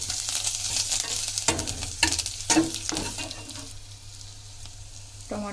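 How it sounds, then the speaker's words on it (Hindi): Curry leaves fry in a pan with a bright, continuous sizzle, broken by a few scraping stirs of the spoon. The sound is close and fairly soft, with no talking. "एबे भृषंग पत्र पकाइबा।"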